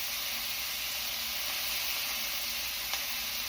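A burger patty sizzles on a hot griddle under a heap of sliced onion, a steady, even hiss that runs unbroken at low volume, with a faint tick near the end.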